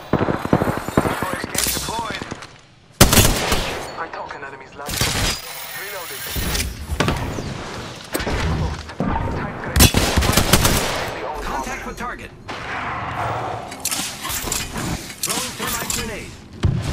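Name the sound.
gunfire in the video game Apex Legends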